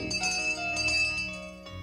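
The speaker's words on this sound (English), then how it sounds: "the bellman exclaimed as he angrily tingled his bell" A hand bell tingled angrily by a bellman rings with bright, sustained metallic tones over a tonal backdrop, moderately loud and continuous for under two seconds.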